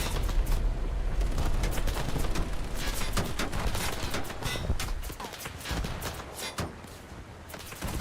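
Naval gunfire in a warship video game arrives as dense, overlapping booms and cracks, with a continuous rumbling barrage that thins out slightly toward the end, and no speech.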